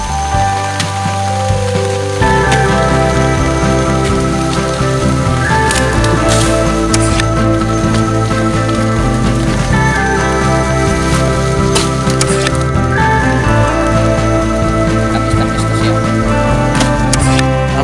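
Heavy rain pours down outdoors in a dense, steady patter that stays loud and constant with no voices.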